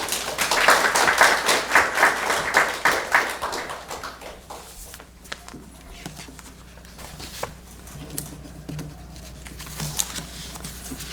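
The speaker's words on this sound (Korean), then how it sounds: "우리 목사님 나오실 때 박수로 환영하겠습니다." A church congregation claps to welcome the pastor at a Sunday worship service, with a burst of rhythmic applause that fades into scattered claps and taps in the room.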